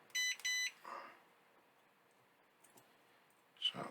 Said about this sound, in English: Let me just try with the old continuity meter.